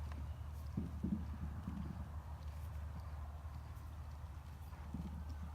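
Faint, muffled hoofbeats thud in a loose rhythm on soft arena ground during barrel racing training, steady and somewhat distant, with no clear talking.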